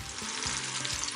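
Shallots frying in a deep saucepan for lasagne sauce, a loud close sizzle with a dense continuous crackle, brief low stirring knocks underneath, no talk.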